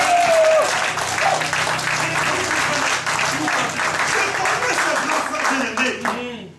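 A church congregation at a French-language sermon bursts into loud, steady applause and cheering that fills the room, sustained throughout and tapering slightly at the end, with a voice briefly heard at the start.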